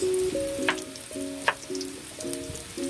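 Potatoes and carrots frying in hot oil for a beef stew give a steady, loud crackling sizzle with occasional sharper pops, heard with no talk.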